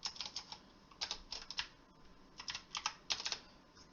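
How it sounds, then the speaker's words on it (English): Close, quiet keyboard typing, with quick clusters of clicky keystrokes and short pauses between them. "excuse my typing"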